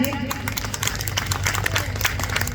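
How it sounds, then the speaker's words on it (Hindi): Applause from a mushaira audience at an Urdu poetry recital: a steady, dense patter of many hands clapping, moderately loud and sustained throughout, with some voices mixed in. "अब एक बार जोरदार तालियां बजा दीजिए"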